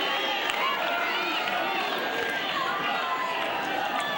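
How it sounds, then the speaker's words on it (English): Crowd noise fills an evening fifth-set session of a 2002 US Open third-round tennis match between Sampras and Rusedski in New York, a steady broad murmur and buzz of spectators with no clear break or burst. "the crowd have been fully into this one all the way through"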